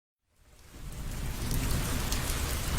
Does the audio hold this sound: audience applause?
no